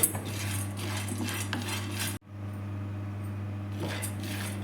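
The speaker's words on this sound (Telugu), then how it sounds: "స్టవ్ మీద గిన్నె పెట్టి ఒక కప్పు శనగపప్పు బాగా వేయించాలి" A cup of chana dal roasting in a pot on the stove, with a metal spoon scraping and clinking against the pot in busy bursts. A brief pause falls midway before the stirring resumes.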